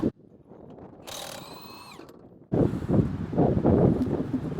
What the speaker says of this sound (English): Got the key for these lugs, and then I have a 22-inch socket.